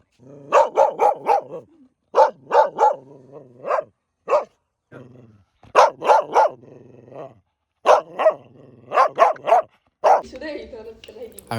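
A dog on an outdoor hilly adventure barks loudly and repeatedly in close bursts of several sharp barks, pausing between volleys, with a brief rustling noise at the end.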